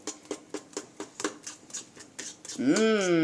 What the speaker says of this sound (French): Maintenant, il faut mélanger.